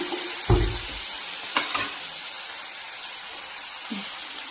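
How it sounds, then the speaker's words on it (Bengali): Steady sizzling hiss of a spice paste, thinned with a little water, frying in a pan, with a couple of soft stirring scrapes and a light knock near the start. "এখন একটা নেড়ে করে ভালো করে ভাজা ভাজা করে নেবো"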